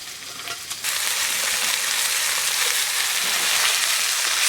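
Onions, tomatoes, potatoes and vegetable stalks fry in a pan for egg curry, a steady loud sizzle that swells after the first second as the vegetables go in, with faint stirring scrapes throughout.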